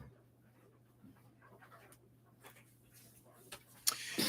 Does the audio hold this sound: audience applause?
no